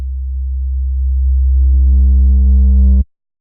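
A steady low sine tone driven through an analog-style clip saturator, gain rising so the tone thickens with added harmonics over about three seconds before cutting off abruptly; loud, alone, no talk.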